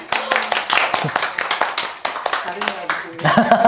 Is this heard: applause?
yes